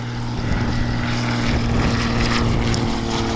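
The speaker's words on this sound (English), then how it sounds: "There's our first airplane sighting coming in for a landing" Loud, steady propeller-plane engine drone of an aircraft coming in to land at Palo Alto Airport, heard from nearby hiking trails as a continuous low hum with wind noise and no voices.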